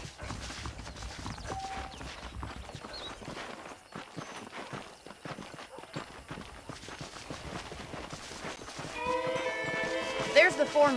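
Horse hooves clip-clop in the Red Dead Redemption video game, a faint steady patter of steps under continuous talk, growing busier and louder near the end.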